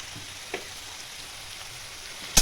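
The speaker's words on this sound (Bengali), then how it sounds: "এবার ক্যাপসিকামটা হালকা একটু ভাজা" Capsicum frying in oil in a wok makes a quiet, steady sizzle with a few soft stirring taps and a sharp clatter at the very end.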